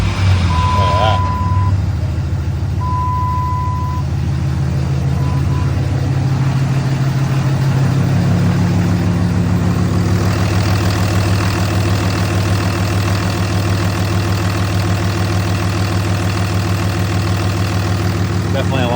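A 6.7 Cummins diesel truck engine idles after a valve lash adjustment, holding a steady, close, low rumbling drone throughout, with a couple of short electronic beeps early on.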